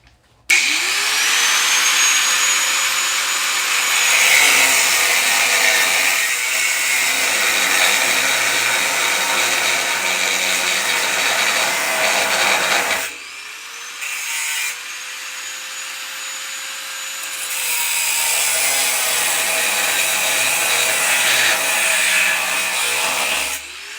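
A power tool cuts a notch in the steel frame of a 1955 Chevy with a loud, sustained high-pitched grinding whine that pauses briefly midway, then resumes.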